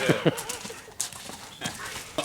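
Horse hooves clip-clop in a few close, uneven strikes during a short stretch, with faint voices in the background.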